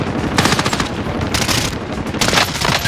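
Machine gun bursts in Call of Duty Warzone, three loud, close sustained volleys of rapid automatic fire separated by brief pauses, with no talk over them.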